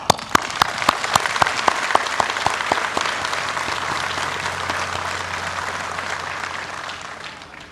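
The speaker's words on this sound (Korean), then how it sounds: "박수를 보냅니다" Applause breaks out at South Korea's 71st Armed Forces Day ceremony, starting with distinct sharp claps and swelling into a broad, sustained ovation from a large outdoor crowd that slowly fades.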